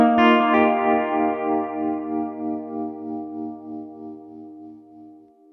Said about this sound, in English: there's a very obvious reverb effect here